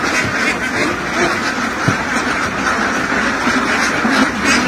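Geese honk and cackle on a farm, a dense, steady chorus of overlapping calls that stays fairly loud and close throughout.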